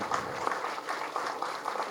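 Audience applause at a film launch pooja ceremony, a continuous patter of many hands clapping at moderate volume, steady and even over a couple of seconds with faint crowd noise underneath.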